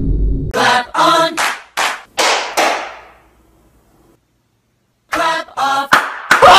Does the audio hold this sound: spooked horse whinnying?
no